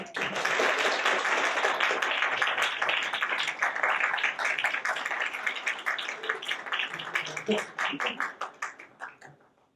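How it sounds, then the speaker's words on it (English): A standing audience applauds at a college student government awards ceremony. Dense clapping holds steady, then thins into scattered individual claps and dies away, with faint voices underneath. "Please stand and give a big hand of applause for yourselves and everyone here"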